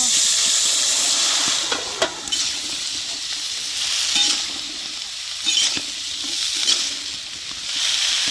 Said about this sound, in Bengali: তেলের সাথে একটু হালকা করে ভেজে নিব সবজি।